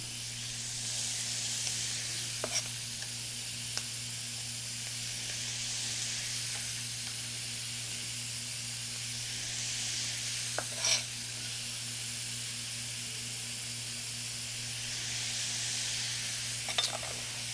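Diced red pepper sizzling in a pan for shakshuka, a soft steady hiss with occasional light stirring clicks and taps, over a constant low electrical hum, fairly faint.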